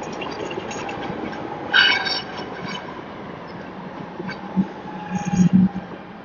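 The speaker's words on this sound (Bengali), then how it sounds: "এই রাস্তার পাশে আমরা হেঁটে যাচ্ছি আর সেখানে ট্রাম যাচ্ছে একটু পর পর" A tram runs along an Istanbul street with a steady rumble of wheels on rails, a brief metallic squeal near the start and a few louder clanks toward the end, heard at moderate distance with no talk.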